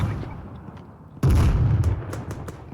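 A single loud gunshot in Arma 3 cracks in at once after quiet ambient noise, its boom rolling out and fading slowly, with a few fainter distant reports following.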